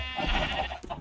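A Minecraft sheep lets out a short, close, wavering bleat that lasts about a second, heard alone.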